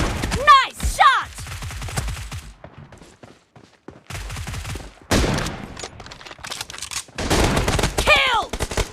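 Gunfire in a shooting video game comes as short, sharp bursts separated by gaps, with voices calling out between and over the shots.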